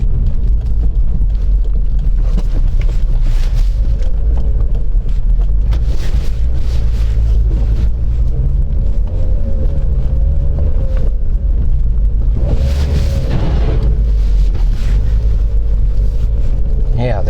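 A 2008 Mazda MX-5 Miata GT on winter tires pushes through deep blizzard snow, giving a loud, constant rumble of engine, road and wind noise that fills the cabin, with a voice faintly over it.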